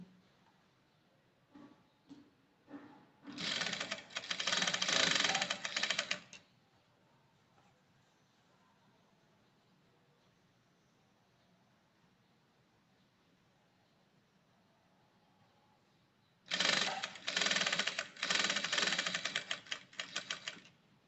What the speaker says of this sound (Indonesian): Kita jahit pada bagian jahitan bantu yang tadi kita buat.